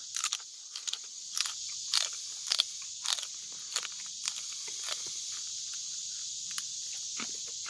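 Sharp crunchy bites of fresh Kentucky Wonder green beans, chewing snaps repeating every half second or so, close and crisp over a quiet background.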